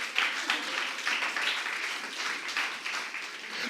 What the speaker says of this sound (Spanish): Dale un aplauso a Rey si puede, iglesia